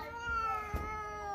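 A cat gives a single drawn-out, tonal meow, close and fairly clear, with a faint thump partway through and no talk.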